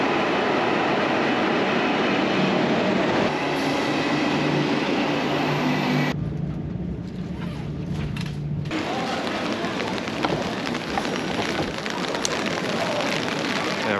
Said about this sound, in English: There it is at 2:07. The train to Busan.